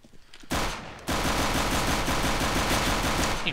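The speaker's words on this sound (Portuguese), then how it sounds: "Ih, mano, acerta os tiros, Knight." Sustained rapid gunfire bursts, loud and continuous after a brief pause, with a dense crackling texture like automatic weapons in a game.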